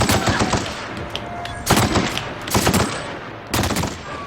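Heavy guns firing in the Fallout video game, with bursts of rapid automatic gunfire in loud clusters separated by short lulls.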